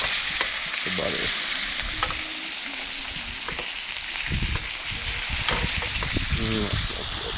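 Steak sizzling in butter with rosemary and garlic in a pan at a campsite, a steady close frying hiss with occasional stirring and spatula scrapes, and no talking.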